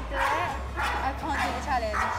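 A dog on a reality show barks and yips in short repeated bursts, loud and close, mixed with speech over a low steady hum.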